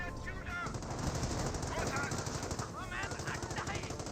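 Rapid, sustained .30 cal machine gun fire in the Company of Heroes battle game, dense rattling bursts with overlapping shots and explosions, loud and continuous, with a commentator talking over it.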